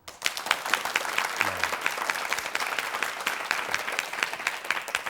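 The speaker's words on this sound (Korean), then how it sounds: "자, 박수 한번 주실래요?" Studio audience applauding at a televised MBC lecture on retirement planning, dense steady clapping filling the whole stretch at moderate loudness with no talk over it.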